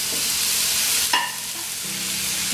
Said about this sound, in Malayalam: ഇതിൻ്റെ പച്ചമുളക് മാറുന്നോളത് നമ്മൾ വാട്ടിക്കൊണ്ടിരിക്കുക.